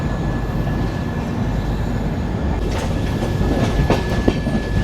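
The Agartala Express, train 15664, rolls near Dharmanagar station with a loud, continuous rumble and rhythmic clickety-clack of wagons, with sharper rail clanks toward the end.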